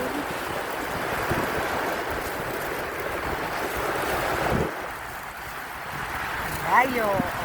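Ocean waves wash continuously onto a shell-strewn beach, a steady broadband surf rush with wind buffeting the microphone, while a person talks over it throughout.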